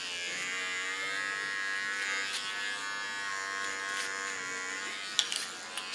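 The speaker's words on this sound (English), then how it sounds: "With my smallest clipper I clean the contour line" A small electric hair clipper buzzes steadily and close up while cleaning the contour line of a curly asymmetric bob, with a few faint clicks near the end and no talking.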